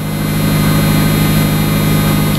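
A Mazda Miata engine idles smoothly after a cold start on a near-freezing day, a close, steady low rumble with an even pulsing rhythm and a constant hum, no voices.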